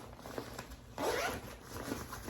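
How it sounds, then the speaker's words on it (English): An interior zipper on a Tortuga Outbreaker travel backpack is pulled, a short, close, scratchy rasp that stands out clearly in an otherwise quiet room. "You got some zippers inside here for your items."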